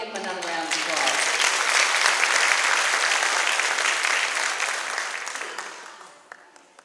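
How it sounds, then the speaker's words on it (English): Audience applause at a preschool promotion and kindergarten graduation ceremony, a dense wash of clapping that swells in, holds steady for several seconds, then tapers off with a few last claps. "Give them another round of applause."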